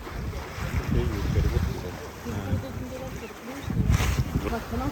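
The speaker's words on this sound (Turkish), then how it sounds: "Benim anladığım bu tur tekneleri buradan dönüp küçük kanallara giriyor." Low, steady engine rumble of a tour boat moving on a canal in Copenhagen, with wind buffeting the microphone and a faint wash of water throughout.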